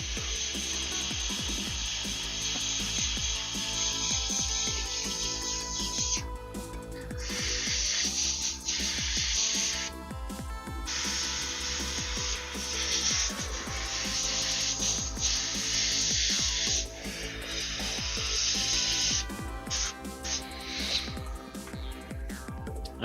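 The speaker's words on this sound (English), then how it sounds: "again, just with some air from the airbrush" An airbrush blows bursts of air over miniature paint: a loud, close, steady hiss that stops briefly several times, with no talking.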